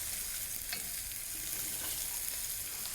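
Oxtail sears in a hot pan with a steady, close crackling sizzle, and faint stirring scrapes come through without any voices.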